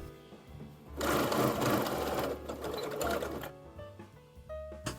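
A sewing machine stitches an understitch along a dress seam in quick, close whirring bursts, with a short pause between runs and a quieter stretch near the end.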